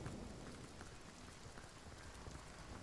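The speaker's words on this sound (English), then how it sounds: "Ah, now it's raining." Steady, dense patter of video game rain falling continuously, soft and even with no voices, like a constant downpour on a surface.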